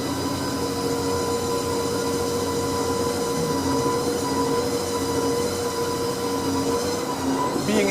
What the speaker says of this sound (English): Being inside this room while the telescope is moving is not really allowed